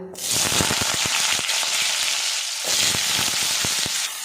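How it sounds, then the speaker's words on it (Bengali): Cut potatoes fry in hot salted oil, a loud, steady sizzle close by with rapid crackling pops throughout and a brief dip partway. "আলুটা আমি লাল লাল করে ভেজে নেব"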